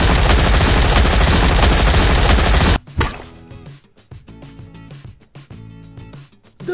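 A machine gun fires in a video game, first as a long, dense, loud continuous burst, then in choppier short volleys with gaps, and no talking.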